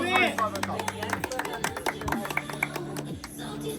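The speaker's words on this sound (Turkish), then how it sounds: "Alkış" Scattered claps and cheers from a crowd at an outdoor calisthenics freestyle event in Sular Vadisi, sounding fairly close and mixed with shouting voices and chatter.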